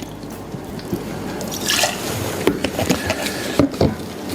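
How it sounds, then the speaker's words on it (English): Coconut rum is poured into a cocktail glass or shaker, giving a short liquid trickle and a few drips, close and alone. "I'm going to put some coconut rum,"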